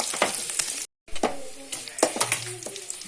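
Elephant foot yam frying in a pan with curry leaves, a loud close sizzle broken by repeated scraping stirs and a brief gap of silence.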